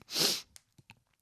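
A single sharp sneeze bursts out close to the microphone, followed by a few quiet sniffs and breaths.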